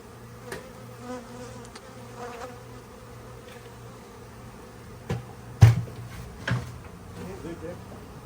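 Honeybees buzz at close range during a live hive rescue while people talk nearby, with a few sharp knocks and bumps from handling the hive.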